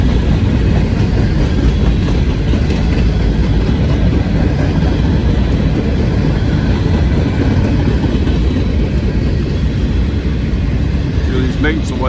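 A freight train crosses a railroad bridge close by, its cars rolling in a loud, continuous rumble with steady clickety-clack from the wheels, heard without speech.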